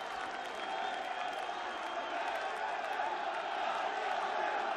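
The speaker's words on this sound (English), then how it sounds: "Listen to that crowd." A packed arena crowd at the German Darts Open roars without pause, a loud, dense wall of cheering and shouting that holds steady throughout.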